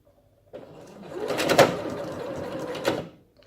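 A faulty sewing machine runs with a rough, grinding mechanical whir for about three seconds, swelling into harsh clattering knocks before cutting off.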